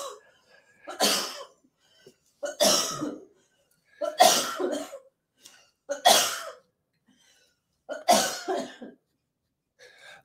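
Several separate coughs, about six, spaced a second or two apart with quiet gaps between, close and fairly loud.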